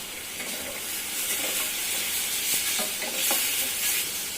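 Tomatoes and soaked tamarind sautéing in a pan for urad dal tomato chutney, a steady close sizzle with repeated scraping stirs throughout, no talk.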